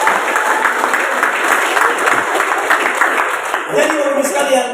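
Audience clapping steadily and loudly throughout at an Indonesian gathering, a dense continuous patter of many hands with voices mixed in.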